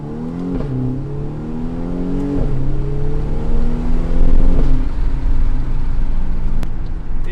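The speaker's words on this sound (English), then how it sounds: "The harshness of the gears and just the sound, the thrill of this little 4-cylinder." A BMW M235i Gran Coupe's little 4-cylinder engine accelerating hard, its loud, close engine note climbing in pitch through several gear changes with harsh shifts between them, continuous and without voices.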